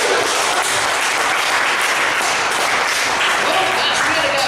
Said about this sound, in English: Give Cass a round of applause.